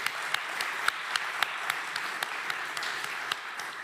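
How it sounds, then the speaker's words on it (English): Audience applause at a startup demo day pitch event, a steady wash of clapping with distinct sharp claps popping out, moderately faint and heard alone for a few seconds. "Huge applause for Istari."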